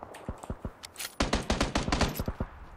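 Rapid bursts of automatic gunfire in PUBG: Battlegrounds, a few scattered shots followed by a dense, sustained volley of loud cracks, close and sharp.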